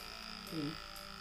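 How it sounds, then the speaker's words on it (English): A small, inexpensive electric trimmer runs close by with a steady, even mechanical buzz that hums continuously at moderate volume. "So these are some electric trimmers."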